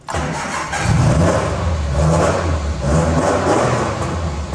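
A Ford Escort Mk1 Mexico engine starts up and settles into a loud, close, throaty idle, with a few blips of revving and no talk over it.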